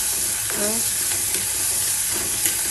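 Chicken curry with tomatoes and onions is stirred in a hot pan. A constant sizzle carries the spatula scrapes, and a voice briefly speaks over it.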